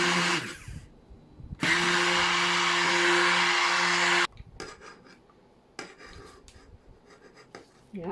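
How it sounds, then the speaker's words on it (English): A stick blender whirs through goat milk soap batter, a loud, steady motor drone lasting about three seconds before cutting off, followed by quieter scraping and handling sounds. "Back in with the stick blender"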